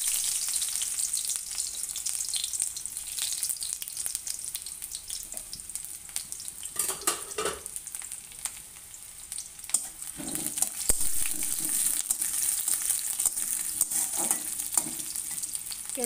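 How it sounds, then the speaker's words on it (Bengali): Chopped onion sizzles in hot oil for a recipe of potato and eggplant chorchori, a steady close crackling hiss with occasional stirring scrapes and no talk. "এই তেলের মধ্যে পেঁয়াজ কাটা দিয়ে দিলাম।"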